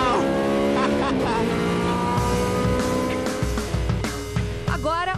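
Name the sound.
Maserati GT race car accelerating on a racetrack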